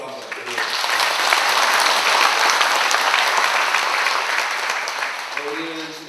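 A church congregation at a Korean Sunday service bursts into steady, full applause, a thick wash of many hands clapping that stays level for several seconds before easing slightly, with no clear voices over it.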